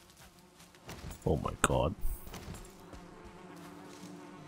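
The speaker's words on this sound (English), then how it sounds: "Bees are happy." Bees buzzing around a beehive in the video game Valheim, a steady insect hum broken by a short spoken exclamation.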